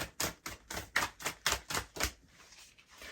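Oracle cards are shuffled in a rapid, even run of about nine crisp, papery riffling snaps. The snaps are close and loud, then give way to a softer shuffling rustle.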